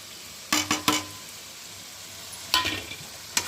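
Chicken being fried in a pan with cumin, coriander and chili powders, turmeric, salt and ginger paste for chicken kosha, heard as a few short bursts of sizzling and spatula scraping with quiet gaps between.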